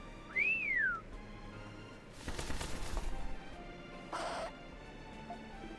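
Arthur, a bird in the video game Ys IX: Monstrum Nox, calls in the prison city: a bright swooping whistle-like cry, then about a second of broad rustling like flapping wings, then one short harsh caw, all fairly close and with no talk.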